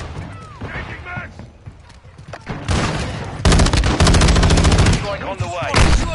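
Video game gunfire rattles loudly in repeated automatic bursts and overlapping volleys, close and harsh, with shouted voices breaking in between the shots.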